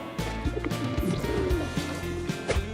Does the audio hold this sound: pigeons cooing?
yes